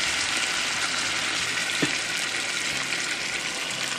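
Sauce mixture poured into a hot skillet around chicken gives a steady, close sizzling hiss of liquid hitting the pan, continuous and fairly soft throughout.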